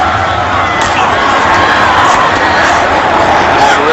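A football stadium crowd at a 2012 Jets at Patriots game reacts unhappily, a dense, loud, continuous roar of many voices with scattered shouts throughout.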